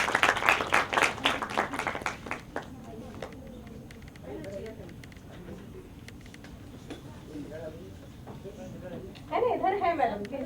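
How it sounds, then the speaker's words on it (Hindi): Audience at a women's skills workshop conference applauding to welcome guests onto the stage, a burst of clapping that fades after a few seconds into murmured voices and scattered claps, with brief louder clapping returning near the end. "जोरदार तालियों से हमारे अतिथियों का स्वागत"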